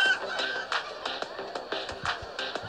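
Rapid, busy clucking from several chickens in the video game Minecraft: Story Mode over a steady synthetic background hum, with sharp taps scattered throughout, like game sound effects.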